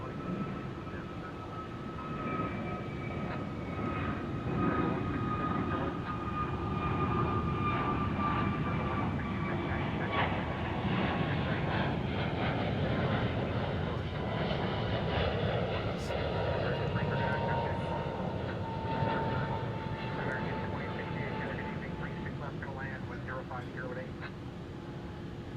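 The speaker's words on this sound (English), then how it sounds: "A321 Neo taking off from runway 36 right." An Airbus A321neo takes off from runway 36 right at Dallas Fort Worth airport, a sustained jet engine roar with a slowly falling whine, moderately distant, under ongoing conversation.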